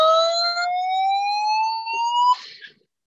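A Desmos audio trace sonifying a graph produces a single continuous electronic tone that glides slowly upward in pitch for over two seconds, then cuts off abruptly, with a faint hiss underneath and no talk.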